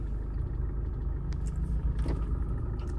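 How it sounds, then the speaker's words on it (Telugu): A 2019 Maruti Breeza ZDi Plus automatic car engine running just after being started, heard as a steady, close low rumble with a few faint clicks and no voices. "కార్ అయితే స్టార్ట్ చేసాను, చూసుకోవచ్చు."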